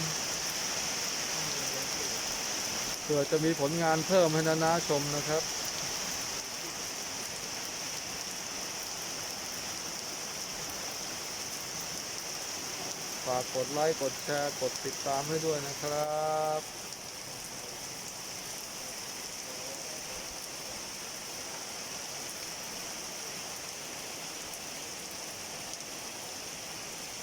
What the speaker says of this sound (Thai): กลางสายฝนเลยครับ